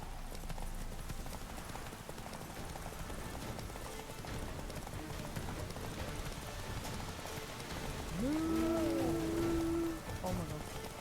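A horse gallops through rain in The Witcher 3, its rapid rhythmic hoofbeats continuous over a soft rain wash, with a brief tonal vocal or musical sweep near the end.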